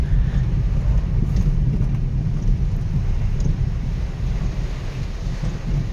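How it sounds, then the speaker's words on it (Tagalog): Steady, loud typhoon wind roars and buffets the microphone throughout, a low rumbling rush with no pauses. "Malakas na ang bagso ng hangin"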